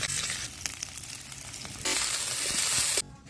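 Bitter gourd sizzles and fries in a pan of hot oil, a steady crackling hiss with a few soft stirring scrapes, growing brighter and louder near the end before stopping abruptly.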